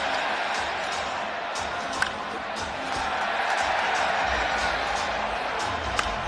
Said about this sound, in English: Oh, listen to the crowd.